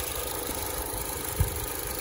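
A 2020 Ford Fusion engine hums steadily and low at idle, with one brief soft knock partway through.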